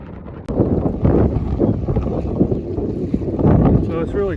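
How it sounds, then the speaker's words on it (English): Heavy wind at the port of Baltimore buffets the microphone in loud, rumbling gusts, with a faint voice briefly audible near the end. "It's a bit windy out here, so I hope this microphone is not picking up all this wind."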